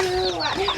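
Chickens cluck close by in a brief burst, mixed with a person's voice.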